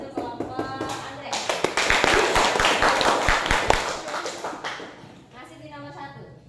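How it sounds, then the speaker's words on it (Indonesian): A burst of sharp hand clapping from a small group of students in a classroom, rapid and uneven, with voices speaking before and after. "Beri tepuk tangan"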